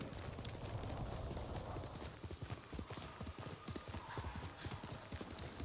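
Horse hooves clip-clop at a steady trot in the video game Ghost of Tsushima, a dense run of close, rhythmic thuds that carries on throughout over a low background ambience.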